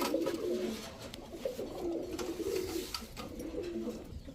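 A pair of young khaki high-flyer pigeons coo close by in three drawn-out, rolling phrases, with faint background noise and no talk.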